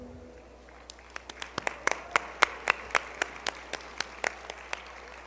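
Sparse clapping greets Youth Service Award recipients at an MLK program, a dozen or so distinct claps that build into a loose rhythm, then thin out again, fairly close and alone.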